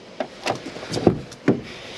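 The passenger door of a Malibu 540 campervan is opened, giving a few soft clicks and dull latch thunks close by in a quiet interior, with no voices.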